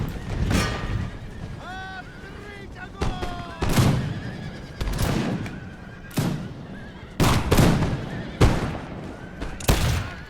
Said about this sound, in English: the infantry line, their job is to just shoot down the enemy